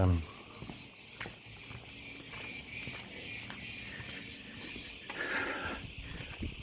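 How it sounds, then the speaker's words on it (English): Steady high-pitched buzzing of cicadas fills the air continuously in a traditional village in Crete, a dense drone with faint background rustle and no speech. "lots of noise from cicadas at the minute"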